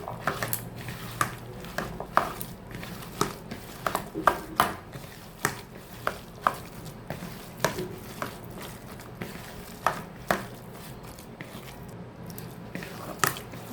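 Boiled jackfruit seeds being mixed by hand with cumin and chili powder in a bowl, steady wet squishing and soft clicks repeating every second or so, close and quiet, with no talking.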